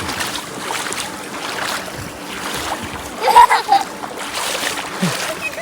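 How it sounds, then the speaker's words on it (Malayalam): Water splashes as people wade through the shallows of Love Lake in Dubai, soft irregular sloshing with a sharper burst of splashes near the end, under wind and nearby voices. "വെള്ളത്തിലൂടെ നടക്കാം"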